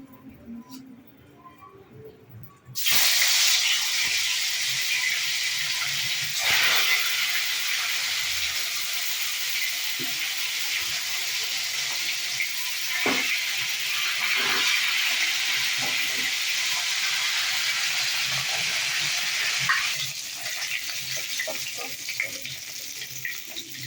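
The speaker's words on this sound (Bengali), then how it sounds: "তো আমি এখানে কড়াটা ভালো করে গরম করে নিয়েছি, তেলও গরম হয়ে গেছে। এবার মাছটা ছাড়বো।" Fish is dropped into hot oil in a heated wok and erupts into a sudden loud, dense hissing sizzle that carries on steadily, with occasional pops and spatters, close up. A voice is faintly heard at times.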